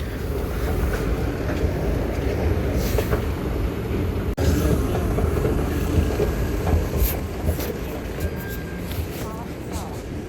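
Riding inside a Riyadh Metro train: a continuous loud rumble with rolling wheel noise and faint squeals, while voices can be heard over it.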